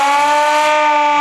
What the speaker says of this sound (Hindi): अब ये आ गया इमरजेंसी सायरन।